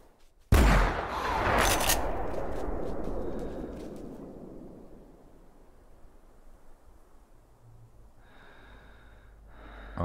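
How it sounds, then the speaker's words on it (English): A hunting rifle in theHunter Classic fires a single loud, close shot that booms and rolls off into a long fading echo, with quiet breathing afterward. "The sound of this gun is just awesome."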